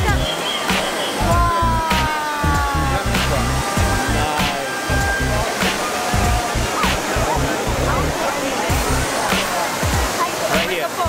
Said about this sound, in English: Trevi Fountain